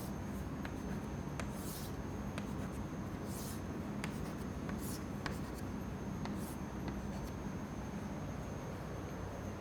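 A pen drawing straight lines at 45-degree angles during a fluid mechanics lecture, giving repeated short scratchy strokes on paper at an even pace, close and steady over a constant background hiss.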